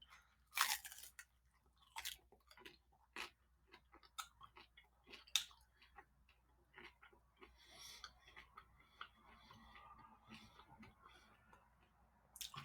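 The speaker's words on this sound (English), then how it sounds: "I don't like the texture of this crust at all. It's kind of hard to chew." Bites and crunchy chewing of a hard, dry pepperoni pizza crust topped with sauce, heard as irregular close crunches and soft mouth sounds with short pauses between, no talking.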